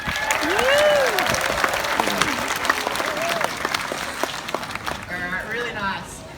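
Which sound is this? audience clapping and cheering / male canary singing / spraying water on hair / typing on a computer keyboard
audience clapping and cheering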